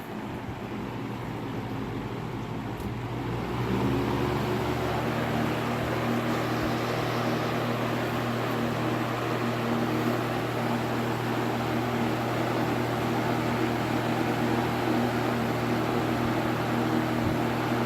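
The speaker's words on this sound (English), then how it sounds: "part of the big reason I like the LakeWood fans is because of the white noise" A LakeWood S-223 electric fan switches up to its high setting, settling into a steady, loud broadband whoosh with a low motor hum running unbroken throughout.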